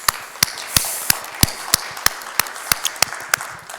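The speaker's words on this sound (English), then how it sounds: "give them a round of applause" A small forum audience clapping, a sparse, fairly even run of individual sharp claps about three per second over a faint background hum.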